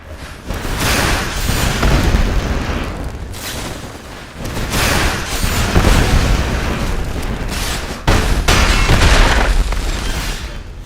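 Rumbling in-game explosion effect from the Ill-Timed Explosion card in the digital card game MTG Arena, with a series of loud booming bursts and deep low-end rumble that swell and pulse for about eleven seconds.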